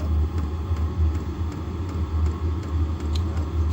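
A diesel heater running steadily after restarting from running out of fuel, a continuous low motor rumble and whir with faint periodic ticks, close and even throughout.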